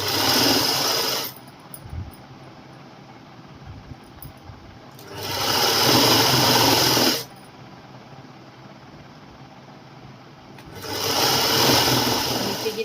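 A sewing machine stitches fabric for a girls' co-ord set in three loud bursts of rapid whirring, each lasting a couple of seconds, separated by quieter pauses with faint handling noise, close up.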